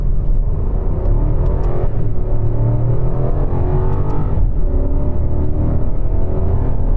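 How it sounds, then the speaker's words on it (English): A BMW 7 Series accelerates through first gear, heard from inside as a loud, steady engine rumble that rises in pitch as it revs, with faint clicks near the start. "Accelerating through first."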